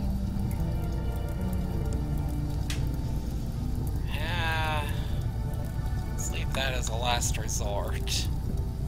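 Rain falling in the video game RimWorld, a steady close hiss of drops that runs through the whole stretch while a voice talks over it in short bursts.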